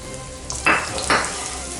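Garlic sautés in a hot pan for a vegan recipe, a steady sizzle with two brief louder bursts of frying or stirring, close by with no talking.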